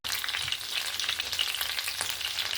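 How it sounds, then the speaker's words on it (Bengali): Mackerel masala fish frying in a pan, a steady, dense crackling sizzle close by with small pops scattered throughout, no talk. "অপর সাইডটাও সুন্দরভাবে এরকম লাল করে ভেজে নিন যতটা সুন্দর করে মুচমুচে করে ভাজাটা হবে"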